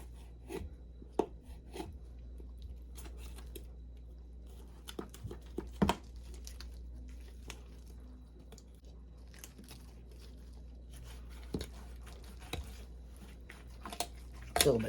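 A sharp knife cuts straight down through a raw turkey near the thigh bone during spatchcocking, giving scattered close, crisp cracks and crunchy scraping, louder near the end, over a steady low background hum.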